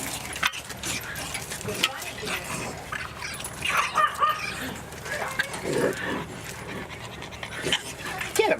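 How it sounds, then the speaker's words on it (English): A dog pants quickly and steadily close by, with faint jangling and whimpers mixed in and people talking over it. "Get that dog."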